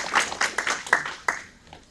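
A few scattered hand claps from a lecture audience at a law talk in Lima ring out near and distinct at first, then thin and fade away within two seconds.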